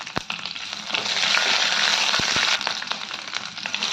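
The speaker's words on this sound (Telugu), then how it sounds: "ఆయిల్ బాగా వేడెక్కాక జీలకర్ర, ఆవాలు, కొంచెం కరివేపాకు, పచ్చిమిరపకాయ ముక్కలు" Cumin, mustard seeds, curry leaves and chopped green chillies hit hot oil, producing a loud, steady broadband sizzle with sharp popping crackles from bursting seeds scattered throughout.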